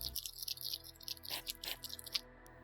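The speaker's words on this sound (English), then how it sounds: "Hedgehogs huffing and chewing" Hedgehog huffing and chewing in a roguelike game, a close run of quick, moist crunching bites and short breathy huffs in an irregular rhythm, quiet and alone.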